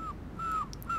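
Seagulls cry in the video game Sonic Adventure 2, a few sharp, harsh calls in quick succession over a low background hum, close and fairly loud with no talking.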